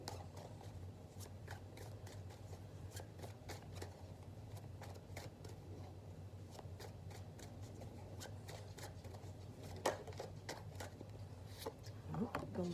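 Tarot cards shuffled by hand in a quiet room, steady soft riffling with repeated crisp snaps and flicks, and a slightly sharper slap near the end as a card pops free.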